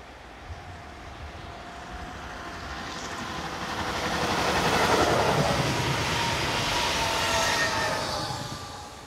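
Electric locomotive 26150 hauling a passenger train from Mulhouse to Strasbourg, rumbling steadily as it draws closer, swelling to a broad roar midway and holding there, with no voices.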